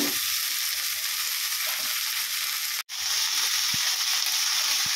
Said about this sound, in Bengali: এটা খুব ভালো করে ভেজে নেব।